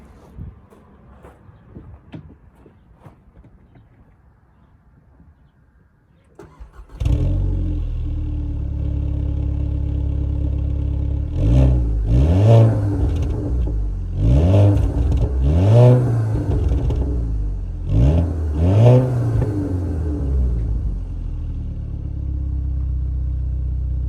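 Volkswagen GLI with a muffler delete starts up and revs, quiet rustling giving way to a sudden loud engine idle, then several sharp throttle blips rising and falling in repeated bursts.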